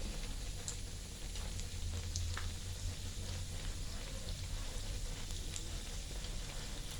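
Pork belly stir-frying in lard in a pan, a steady close sizzle and crackle running throughout with no talk.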